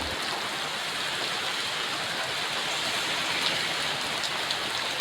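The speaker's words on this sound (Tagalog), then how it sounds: "sa tingin namin, hindi nahihinto itong ulan" Steady rain falls outdoors near a tunnel, a continuous even hiss of drops that holds at the same level throughout with no voices.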